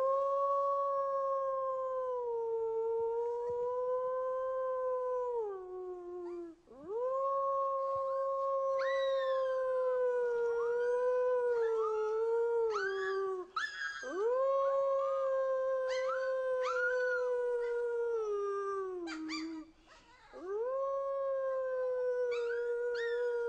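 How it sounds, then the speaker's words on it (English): A young wolf pup howls in long, rising and wavering cries, breaking off and restarting several times with yelps and sharp upward slides, loud and close with no one talking. "And the best place to start is with the howl."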